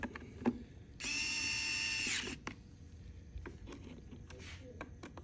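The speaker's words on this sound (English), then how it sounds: "Electric screwdriver comes in handy." An electric screwdriver tightens screws on a new Klein tracer tool, giving one loud, steady whirring burst of about a second, then a few light clicks and handling noises in a quiet room.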